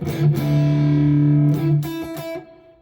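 A sustained chord rings out on an M Musi Capricorn Fusion electric guitar, then a few softer strums follow as the volume is turned down with no treble bleed, the tone growing duller and quieter.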